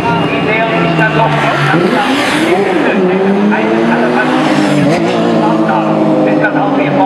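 Race cars at the 2011 Nürburgring 24-hour race near the finish line: loud, continuous engine roar with rising and falling whines as cars pass close by, under steady commentary in German.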